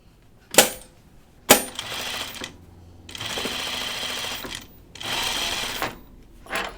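A sewing machine stitching a garment neckline over pins runs in several short bursts of rapid mechanical whirring, broken up by sharp clicks and pauses, close and fairly quiet.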